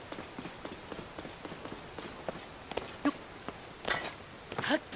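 Rain falling in Zelda: Tears of the Kingdom, a soft steady patter of drops with scattered louder taps, fairly quiet and with no talking.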